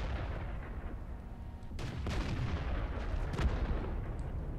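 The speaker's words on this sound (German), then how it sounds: "Und nochmal die Artillerie." Artillery shells firing in World of Tanks, during a battle in a light tank: two heavy, booming blasts a couple of seconds apart, each rolling out over a quiet, rumbling battlefield background.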